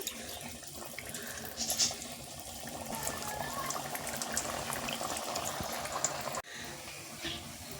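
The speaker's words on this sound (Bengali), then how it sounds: "ভাসা তেলেই খাজাগুলো ভাজতে হবে" Khaja pastries deep-fry in oil that is not too hot, a continuous bubbling, frothy hiss close by. It holds steady, drops suddenly near the end, then resumes faintly, with no talking.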